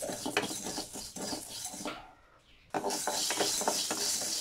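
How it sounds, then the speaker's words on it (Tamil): Cumin seeds are stir-roasted in a pan, with close, scraping and rattling strokes of the stirrer against the metal, a brief pause in the middle, then the stirring resumes more steadily. "ஜீரகமும் அப்படி தான் கருகிடாமல் ஒரு ரெண்டு வதக்கு வதக்கிடணும்."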